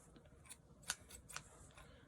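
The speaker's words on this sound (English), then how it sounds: "I'm going to cut this little piece of tape off" Crisp scissor snips cut through tape, several short sharp clicks spaced irregularly, close and fairly quiet.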